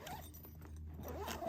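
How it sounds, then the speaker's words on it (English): A zipper runs along a side gear bag mounted on a frameless pontoon boat, one short, close rasping pull lasting under two seconds. "Zip it up a little."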